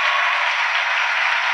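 A church congregation applauds in praise of Jesus, a dense, even wash of clapping from many hands, steady and loud without a break.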